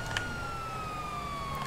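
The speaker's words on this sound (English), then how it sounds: "Got an ambulance behind me for some reason." An ambulance siren wails faintly in the distance behind a vehicle travelling about 80 mph, its tone sliding slowly downward over steady background hum.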